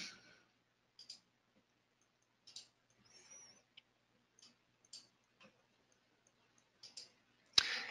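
Mouse clicks on a computer running a remote desktop session, sparse and faint, a dozen or so light taps spread across a quiet room, ending with one sharper, louder click.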